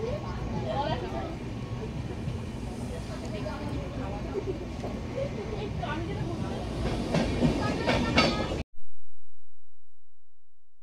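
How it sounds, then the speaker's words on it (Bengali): A passenger train runs onward after departing Barsoi station, with steady rumbling, rail rattle and clickety-clack throughout and a faint murmur of voices inside the coach, before the sound cuts off abruptly. "তো বারসই স্টেশন থেকে এখন ট্রেন ছেড়ে দিল আমাদের"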